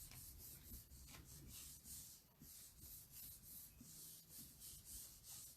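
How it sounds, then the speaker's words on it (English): A hand gives firm rubs over paper laid on a gel printing plate, a faint, close, rhythmic scratchy swishing in repeated strokes of about half a second each. "Give it a good firm rub."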